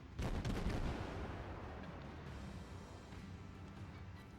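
A tier 3 Russian destroyer, the Derzki, fires its guns in World of Warships, a loud booming blast that rolls into a long, rumbling fade with no talking.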